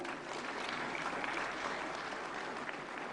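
Loud, dense applause from a large audience at a national film award ceremony, a steady roar of many hands clapping without pause.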